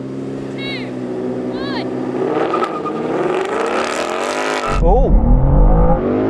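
A new Mustang V8 and a BMW M2 launch side by side in a drag race, engines roaring loud and rising through the gears for several seconds before a deep, close engine rumble takes over; a person exclaims briefly.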